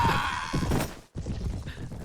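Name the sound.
horse hooves galloping in the video game Mount and Blade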